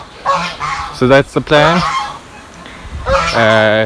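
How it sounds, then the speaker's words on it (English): Several geese honk loudly and repeatedly, close by, with someone speaking briefly in between the calls. "the geese think it's feeding time"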